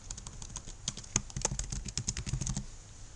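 Quiet, close computer keyboard typing as a file name is entered, a quick irregular run of soft key clicks lasting a few seconds with no talking.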